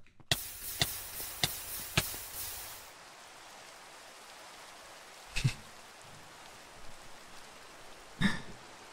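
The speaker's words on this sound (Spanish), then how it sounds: "La lluvia ácida, mírala." Steady acid rain hiss in Minecraft with several sharp knocks over it; the rain cuts off after a few seconds, leaving occasional soft thumps.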